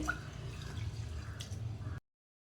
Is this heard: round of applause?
no